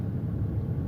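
Road traffic passing below the Pont d'Aquitaine bridge in slow, congested conditions, a steady low rumble of engines and tyres with no distinct single vehicle standing out.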